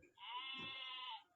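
A toy flash card plays a recorded goat bleat, a single sustained wavering call lasting about a second, clear and close with no talk over it.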